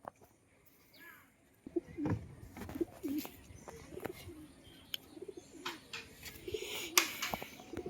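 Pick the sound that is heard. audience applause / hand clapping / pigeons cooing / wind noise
pigeons cooing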